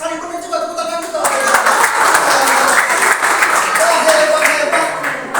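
A group at a church holiday Bible school camp opening service bursts into applause, steady dense clapping that sets in after a brief lead-in with voices, close and fairly loud, holding for several seconds with talk mixed in.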